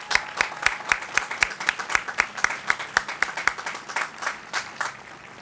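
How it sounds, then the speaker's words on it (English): Scattered outdoor applause at a highway relocation project dedication, a small crowd clapping in distinct, crisp claps that rise and then gradually thin out, fairly faint. "please give them all a round of applause"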